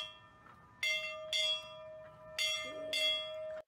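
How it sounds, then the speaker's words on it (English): A bell is struck four times in a spaced, uneven rhythm, each bright clang near and loud, with a steady ringing tone sustaining between strikes. "So the bell ringing begins."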